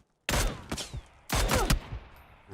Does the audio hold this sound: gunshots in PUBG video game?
yes